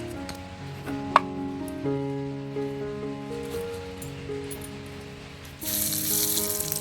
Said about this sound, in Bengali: কালো জিরে দিচ্ছি সম্বার,